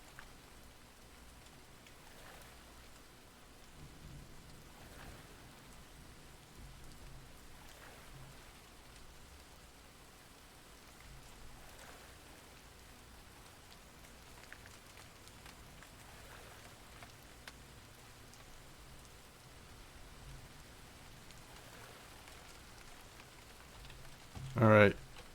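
Steady, soft rainfall in the Fisher Online fishing game, from a pond scene, patters continuously on surfaces as a quiet, even hiss for the whole stretch, with a short louder splash-like burst near the end.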